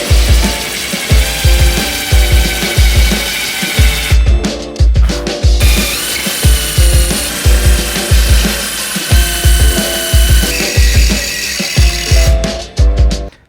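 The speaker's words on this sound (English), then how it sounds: "I'm gonna go ahead and deburr these out so I can use recessed hardware" A power drill with a countersink bit deburrs holes in metal in short, repeated bursts, a steady rhythm of whirring cuts with no talking.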